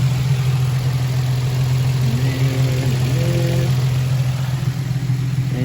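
A Nissan Z fitted with six new spark plugs runs steadily at a smooth, continuous idle, a deep even hum with a slight rise in pitch partway through and no voices over it.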